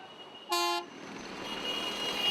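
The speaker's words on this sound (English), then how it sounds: "Traffic noise levels in Lucknow exceed permissible levels at all locations" A single short car horn toot blares in busy Lucknow traffic, a bright burst lasting about a quarter second, followed by a steady wash of road and engine noise that slowly builds.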